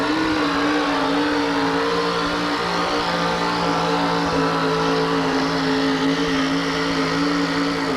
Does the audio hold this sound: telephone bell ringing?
no